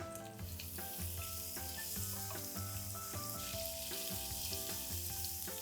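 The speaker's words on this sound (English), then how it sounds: "I'm going to add in 1 onion which is sliced, 1 teaspoon of ginger garlic and chili paste." Sliced onion with ginger garlic chili paste and cumin seeds sizzling steadily in a hot pan, a continuous close crackling fry with soft clinks, quiet background music underneath.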